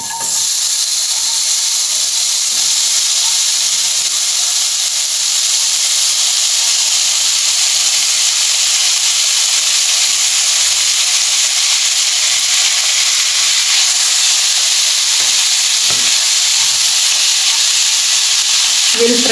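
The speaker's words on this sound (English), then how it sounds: "We will fry the pork meat till it is light golden brown in color." Pork meat sizzles loudly in a hot pan for a Goan sorpotel, a dense, steady frying hiss that continues unbroken and close up with no talk.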